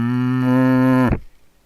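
A person imitates a dairy cow's moo, one long, deep, steady lowing note that swells slightly before cutting off abruptly, loud and close.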